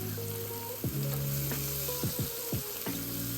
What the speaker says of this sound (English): once you got your short ribs seared on all sides